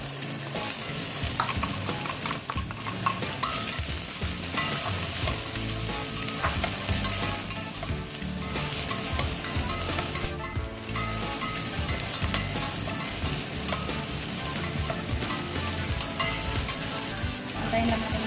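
Garlic and onion frying in a pan for a homemade chao long (Vietnamese pho), giving a loud, steady sizzle with stirring clatter throughout, and no voices.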